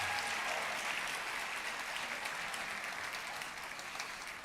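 Sustained, dense applause from a large concert audience honoring the 2022 Springdale High School seniors at a spring band concert, steady throughout and slowly tapering near the end.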